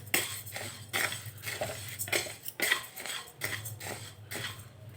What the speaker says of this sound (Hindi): देखिए तो हमारी चावल भी अच्छे से भून रही है